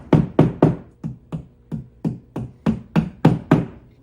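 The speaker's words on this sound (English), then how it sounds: "we'll just tap these in place" A series of sharp taps, about a dozen evenly spaced knocks as wall anchors are tapped into a wall, close by and with no talking.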